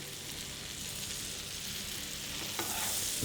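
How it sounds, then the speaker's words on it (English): Rib eye steak fries in hot butter with garlic and thyme, giving a dense, even hiss of sizzling fat that carries on steadily throughout at close range. "the hot butter is hitting the garlic and the thyme and releasing all that lovely oils and flavours"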